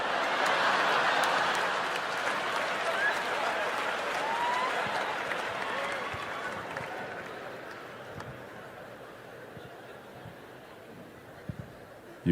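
Sustained audience applause at a stand-up comedy show, a loud wash of clapping that slowly thins and fades over about twelve seconds, with scattered claps and crowd noise near the end.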